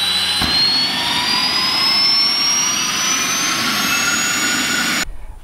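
Jet engine of a Mosquito helicopter starting up, a loud close roar with a whine climbing steadily in pitch for about five seconds before it abruptly cuts away, no voices.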